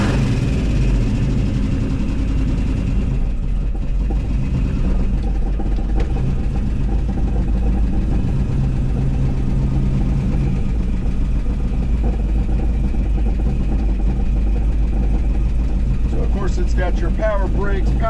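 A 1967 Dodge Coronet 440 big-block V8 with a double-pumper carburetor idles with a loud, steady low throb, close up, as a voice talks briefly near the end.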